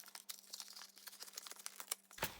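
Paper packaging pulled apart by hand, making faint, close crinkling and rustling with quick irregular crackles and a louder tear near the end.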